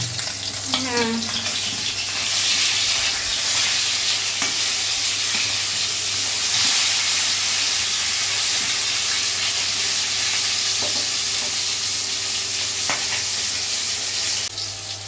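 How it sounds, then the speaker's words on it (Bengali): Rohu fish frying in a pan makes a steady, loud sizzle and crackle throughout, with occasional stirring and a brief spoken word nearby. "কি মাছ ভাজা চলছে"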